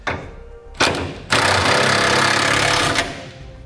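A socket wrench snugs up half-inch flange nuts on a Curt trailer hitch receiver being installed on a 2011 Chevrolet, with a short burst followed by a long, steady, loud mechanical run of about two seconds.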